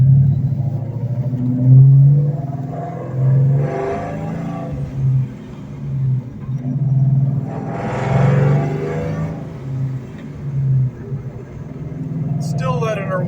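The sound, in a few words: 2004 Ford Mustang Mach 1 engine while driving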